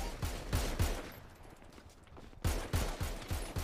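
Gunfire in a GTA roleplay game, several separate shots and short bursts with pauses between, moderately loud and fairly close.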